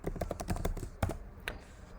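Computer keyboard typing while entering Python pandas code in a Jupyter Notebook, a quick burst of close, crisp key clicks through the first second, then a few sparser taps, with no talking.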